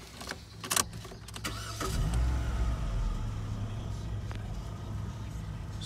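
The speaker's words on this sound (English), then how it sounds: "We'll start the car up for you now." A Vauxhall Astra 1.8 petrol 16v engine cranks with a few clicks, then catches and settles into a smooth, low idle heard from close by, with no talking.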